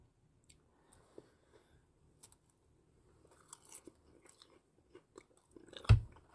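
Someone chews and eats vegetables, with quiet, scattered bites and soft crunches close to the mic and a slightly louder crunch near the end, without speech.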